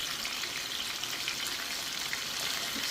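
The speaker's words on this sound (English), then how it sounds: "this is the frying on an oil" Beef chunks fry in hot oil in a pan for goulash, a dense, continuous sizzle with fine crackling, fairly loud and close, with no talk.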